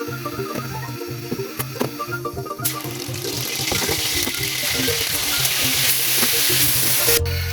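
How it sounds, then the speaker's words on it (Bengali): Fish fries in hot oil in a kadai, starting with a few clattering kitchen knocks before a loud, dense sizzle bursts in and crackles steadily to the end, with no talking. "আমি কড়াইতে তেলটা দিয়ে দিচ্ছি মাছ ভাজার জন্য।"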